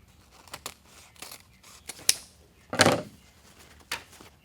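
Scissors cut ribbon for a gerbera daisy wreath in a series of crisp, close snips, with one longer, louder slicing cut in the middle and scattered lighter clicks around it.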